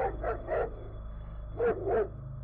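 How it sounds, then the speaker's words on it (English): A dog barks in two short bursts, a couple of quick barks, then a pause, then two more, fairly close and fairly loud. "The dog finally noticed him and started barking."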